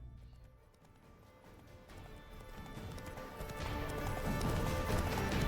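Hooves of a horse in The Witcher 3 video game clop along amid soft rustling ambience, starting faint and swelling steadily louder as the horse comes closer.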